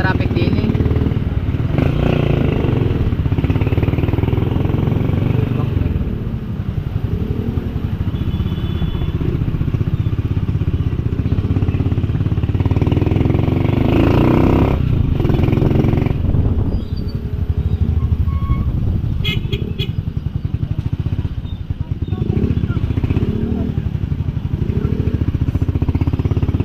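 Busy street traffic with motorcycles and motorized tricycles, engines rumbling and puttering continuously nearby with clattering, while someone talks over it.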